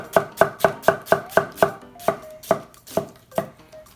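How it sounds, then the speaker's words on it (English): A Mercer chef's knife chops an onion on a board, making about a dozen crisp, evenly spaced thuds, quick and steady at first and then slowing toward the end, close and clear with no talking. "Let me go ahead and lop this off, and I'll just do a just a normal slice"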